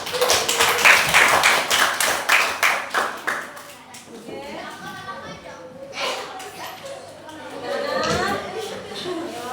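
A sixth-grade classroom claps together in a quick burst of many hands that fades after a few seconds into chatter and children's voices, with scattered taps continuing underneath.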